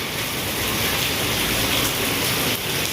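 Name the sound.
hail falling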